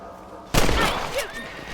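A loud gunshot from Red Dead Redemption cracks once after a quiet stretch, then a short ringing tail with faint game ambience.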